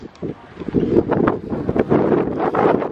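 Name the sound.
strong wind blowing in a parking lot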